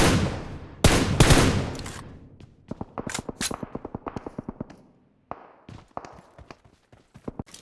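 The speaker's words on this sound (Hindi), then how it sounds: "और एक बंदा मुझे यहाँ पे मिल भी जाता है, जिसको मैं फायर करता हूँ।" Gunfire in the mobile shooter BGMI: loud close blasts at first, then a rapid string of sharp shots and a few scattered single cracks, with no talking.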